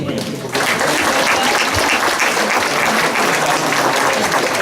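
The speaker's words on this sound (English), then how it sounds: "How about a big round of applause for Mason Vanderbeek?" Crowd at a speedway awards banquet applauding a trophy recipient, a full, sustained burst of clapping that starts sharply after a brief lull and stays loud and even to the end.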